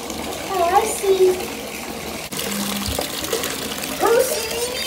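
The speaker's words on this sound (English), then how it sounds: "Wait, the water is close. It's flooding." Flood water rushes and splashes around a toy train set, a steady close wash of water with child-like voices talking over it.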